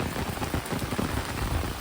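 Steady rain pours down on surfaces outside a doorway, a dense continuous patter of drops with no voices.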